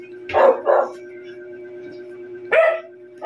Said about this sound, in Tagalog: Mga aso natin, yan.